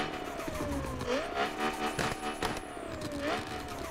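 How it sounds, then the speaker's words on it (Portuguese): A high-revving V10 6.0 engine in the game Car Parking Multiplayer climbs in pitch with gear-shift dips, steady and loud, with sharp transient clicks scattered throughout. "E esse aqui é o som do V10"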